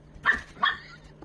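A small puppy gives two quick, high yips close by, followed by a faint third squeak at the very end.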